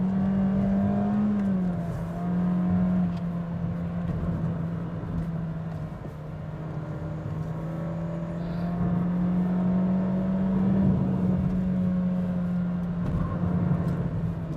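A Honda City 1.5 climbing the Genting hill road, its engine holding a steady, droning pull with slight rises in revs as it labours uphill, close and continuous with road and wind noise, no talking.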